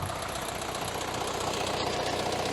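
A YuMZ-6 tractor engine runs steadily under load while disking a field with an AG-2.1 disc harrow, a loud, close, continuous knocking diesel rumble with no talking.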